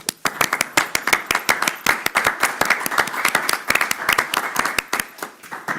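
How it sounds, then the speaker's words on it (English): Applause from a small group at a commission meeting, steady crisp clapping that carries on throughout without a break, close by and without voices. "could we just give them a round of applause?"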